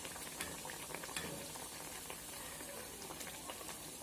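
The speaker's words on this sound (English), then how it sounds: "I have dropped the atta and maida mix biscuit roti now." Atta and maida biscuit roti, a Dakshina Kannada snack, frying in hot oil: a steady, close bubbling sizzle with scattered crackles and spits throughout.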